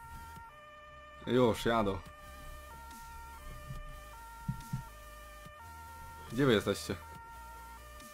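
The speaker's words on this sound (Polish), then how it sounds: "Czemu ja słyszę cały czas syreny?" An emergency vehicle siren in Farming Simulator 15 holds steady, stepping tones in the background, faint and continuous, while players talk over it at two points.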